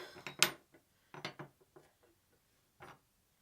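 Spade drill bits from a tool haul clink and rattle against each other as they are handled, producing a few sharp, light metallic taps in short clusters with quiet gaps between them.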